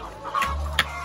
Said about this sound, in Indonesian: Biar ayamnya enggak berisik